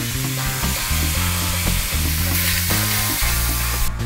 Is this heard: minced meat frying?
yes